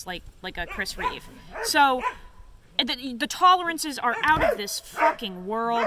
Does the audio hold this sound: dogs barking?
yes